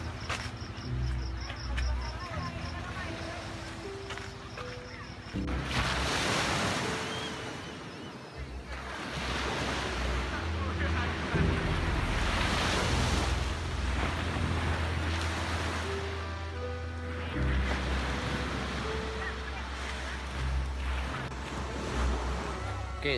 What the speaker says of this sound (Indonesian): sekarang ni saya berada di tepi pantai di kawasan balik pulau